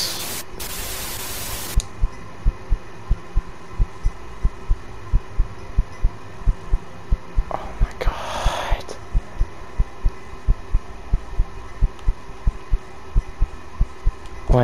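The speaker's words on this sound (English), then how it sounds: "Why is my heart beating?" A steady heartbeat thumps in a spooky video game, regular low beats running through most of the stretch over a hushed hiss, after a loud burst of noise at the start and a brief rushing swell near the middle.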